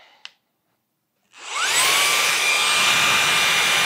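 A HOTO air duster switched to vacuum mode gives a short click, then after a pause its motor spins up into a loud, steady high-pitched whine and rush of air that holds to the end, close by.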